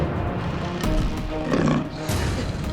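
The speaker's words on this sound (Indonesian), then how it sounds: "Dia teriak tuh harimau." A tiger roars in several loud, rough bursts over a dense, continuous background of other noise.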